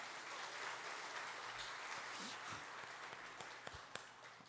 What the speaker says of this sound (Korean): 이게 박수 칠 일이군요.